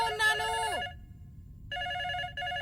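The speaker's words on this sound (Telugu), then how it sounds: "ఆ ఫోన్ కాస్త చూడు" A telephone rings in a quiet room with two bursts of electronic ringing: a warbling tone that slides down and fades, a pause, then a steady ring that stops briefly and starts again.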